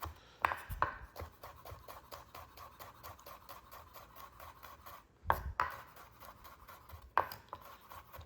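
A knife rough-chopping garlic on a board, a fast rhythmic series of quiet taps with a few louder knocks scattered through, close and faint.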